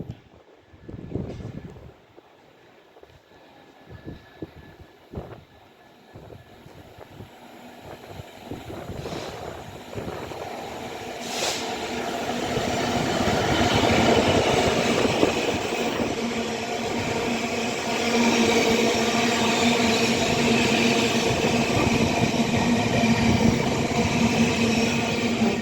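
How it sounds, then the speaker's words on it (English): A freight train passing through platform 2 at Rugby station on the West Coast Main Line, its rumble building from a few early clanks into a loud, sustained roar of wagons rolling past close by, with wind buffeting the microphone. "Passing through on platform 2, we have a freight service."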